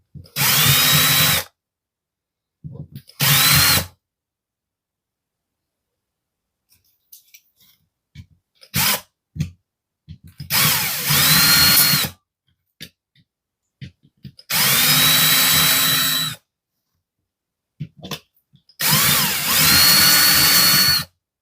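A power drill bores out the rivets on a diecast Corgi 267 Batmobile toy, running in loud, repeated bursts of a few seconds each, separated by quiet pauses and brief taps.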